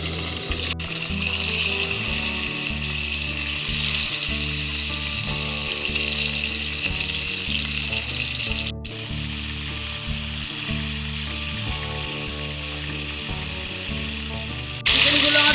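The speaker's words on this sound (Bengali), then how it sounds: "তেলটা গরম হয়ে গেছে, এবার আমি চিকেনগুলো একটু ভেজে নেব" Chicken pieces shallow-frying in hot white oil for a Murshidabad dudhiya biryani, a long even sizzle with a pulsing low hum underneath, close, briefly cut off midway and rising louder at the end.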